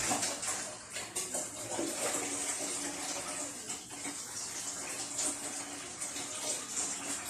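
Tigernuts are washed in water, with a continuous close splashing and sloshing of water and grains that stays fairly even throughout.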